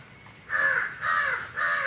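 Crows cawing: three harsh, loud caws in quick succession, close by, each lasting about a third of a second over a quiet background.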